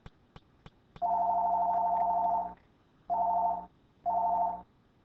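A telephone rings in three clear electronic bursts, the first long and the next two shorter, separated by brief pauses and preceded by a few faint clicks.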